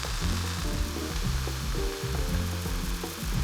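Broccolini charring in a very hot pan with a little salt, leaves crisping: a constant close, bright sizzle and crackle running throughout, under steady background music.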